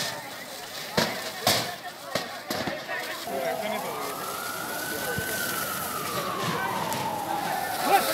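A fire brigade siren sounds at a blazing shop in the Jogeshwari area, its single long wail rising and falling over the roar and crackle of the scene after a few sharp knocks.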